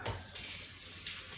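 Water runs steadily from a kitchen sink tap while sourdough bread is being made, a continuous close hiss with a brief low thump at the start and slight surges.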